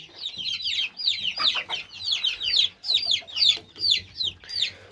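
Chicks peeping in rapid, high chirps with a few hens clucking low underneath in a chicken coop, a busy continuous chorus close by.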